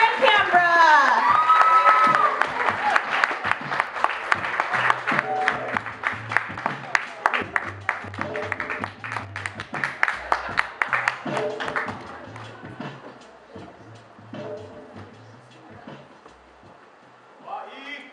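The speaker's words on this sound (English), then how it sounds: "please clap the poetry" Crowd applauding and cheering for a slam poet at a Seattle poetry slam, steady loud clapping with whoops that thins out after about twelve seconds, voices heard over it.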